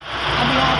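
A small VIP bus engine, compared in size to a Mehran car's, runs steadily just after being driven, a continuous close mid-range engine hum with a low rumble that holds even and loud throughout.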